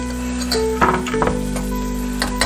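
Onions sizzling in a pan while cooking a Malabar spinach dal, a steady close frying hiss with a few light clinks and stirring scrapes and a constant low hum beneath.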